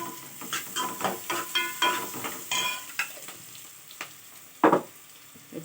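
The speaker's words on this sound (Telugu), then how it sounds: "ఉల్లిగడ్డలు వేగిపోయినాయి. ఇప్పుడు మనం పసుపు వేసుకున్నాం." Onions frying in a pan with turmeric just added, stirred so the utensil scrapes and clacks in irregular bursts over a soft, steady sizzle, close up and without voices.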